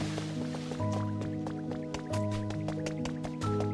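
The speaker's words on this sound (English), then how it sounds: "I gotta suck the water out of this place." Water being sucked up in the video game Pokopia: quick wet dripping and squishing blips repeat steadily over a bed of cheerful game music.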